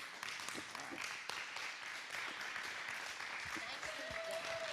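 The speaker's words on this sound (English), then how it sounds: "Just one last round of applause for our panel." Audience applause for a student-led panel at a youth advocacy summit, a faint, steady wash of clapping from a distance, with a few brief voices and a short whistle-like tone near the end.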